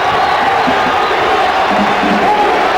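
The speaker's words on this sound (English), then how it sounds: "Listen to the crowd." A loud, sustained roar of a home crowd at a 1985 college basketball game between Bradley and Marquette, a dense wall of cheering and shouting filling the arena without letup.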